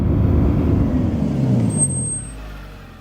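A road vehicle rumbles loudly and slows to a halt, its engine noise fading as a brief high hiss like an air brake sounds near the end, followed by a quieter idle.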